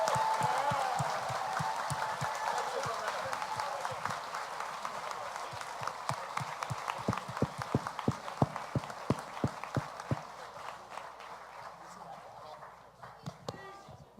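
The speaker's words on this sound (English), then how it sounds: "So let's give it a round of applause." Audience applause at a fan panel event, a steady wash of clapping from the crowd that thins toward the end, with some voices mixed in.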